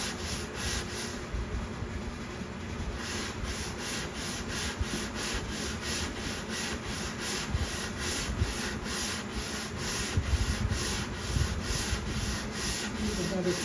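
Steady rhythmic sanding strokes on the mahogany heel of a guitar body, a continuous close abrasive rasp repeating at an even pace throughout.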